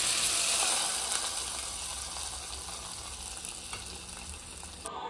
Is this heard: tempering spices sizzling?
yes